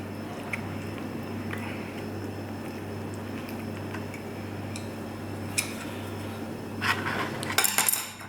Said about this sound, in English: I'll just give it a bit of a stir